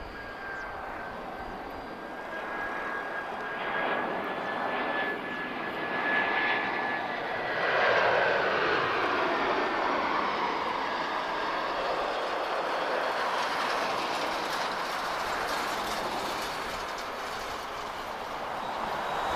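Airbus A321 airliner taxiing at Lisbon Airport, its engines a steady, moderately distant jet whine and rumble holding throughout with a brief swell midway, alone without voices.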